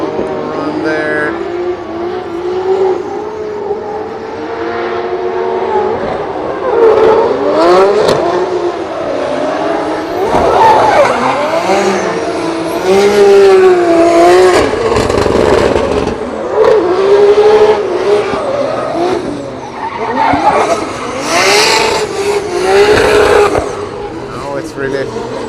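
A drift car's engine revs and wails through a solo practice run at Drift Masters Finland, rising and falling with tyre noise over a long stretch while a commentator talks throughout.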